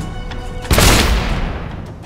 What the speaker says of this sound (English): we pull out the gun and shoot the powder for a huge explosion